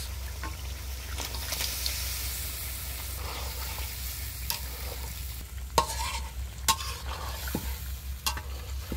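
Shing fish frying in a spice paste, with a soft continuous sizzle and occasional sharp utensil knocks and scrapes, close by over a steady low hum, no talk.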